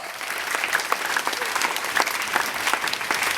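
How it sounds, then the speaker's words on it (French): Children's congregation at a Palm Sunday mass applauding together, a steady dense wash of clapping lasting the whole stretch with slight swells, moderately loud and close. "Applaudissons très très fort"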